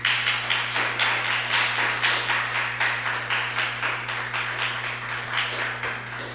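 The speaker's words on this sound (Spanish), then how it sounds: "Denle una ofrenda de aplausos al Señor" A church congregation claps together in steady, continuous applause, a dense even patter of many hands with a low hum underneath and no voices.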